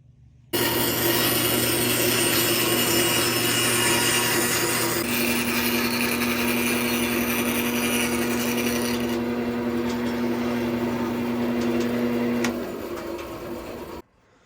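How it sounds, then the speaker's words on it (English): A bandsaw cuts through a small wooden Christmas tree decoration: a loud, close, steady motor hum with blade rasp that continues for about thirteen seconds before stopping, and no speech. "I just thought I'd take the rest off with the bandsaw"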